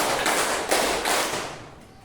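A classroom group claps a counted pattern in a short burst of several quick, loud claps, then trailing off into room noise.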